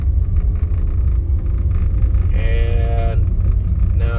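A car engine-brakes in low gear while rolling down a steep hill at about 10 to 15 miles per hour, a steady, close, low rumble, with a brief higher tonal whine partway through.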